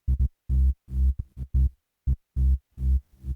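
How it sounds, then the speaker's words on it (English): A deep, punchy house bass line plays alone as short, separate low notes in a syncopated rhythm with gaps of silence between them, loud and close. "So altogether the bass sounds like this."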